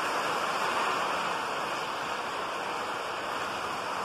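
Heavy rain pours down in a storm during a fishing trip, a constant dense hiss with no letup, fairly close and steady throughout.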